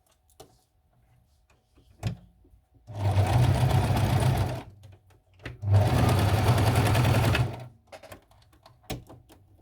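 A sewing machine stitches small doll clothes in two loud sustained bursts of a couple of seconds each, with quiet handling clicks and taps before, between and after.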